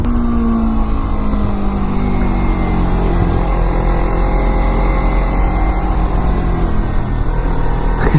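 A Kawasaki Ninja 300 motorcycle drones loudly and continuously while being ridden, its engine note shifting as revs change, close up with heavy wind rush and no talking.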